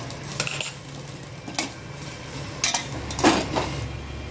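Dried loitta fish paste stirred and fried in a pan, with a utensil scraping and clinking against the metal in a few scattered strokes over a faint steady sizzle, close and fairly quiet.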